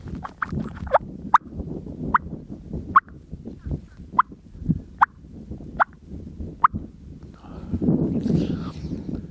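Soft turkey tree-call clucks, produced as a hunter's imitation, come in about nine short, evenly spaced clucks close up. They are followed by a breathy rustle near the end.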